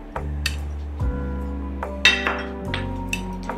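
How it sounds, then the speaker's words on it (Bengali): Small pieces of bhetki fish fillet tipped into a bowl, producing a few scattered clinks and knocks against the dish over a low steady hum. "আমি মাছের পিসগুলো ঢেলে দিচ্ছি।"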